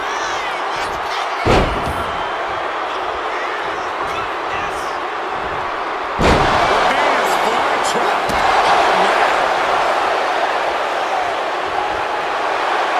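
WWE Royal Rumble wrestling arena crowd, a dense roar of cheering filling the whole clip with sharp slam-like thuds from the ring, the crowd swelling louder partway through, with commentary voices underneath.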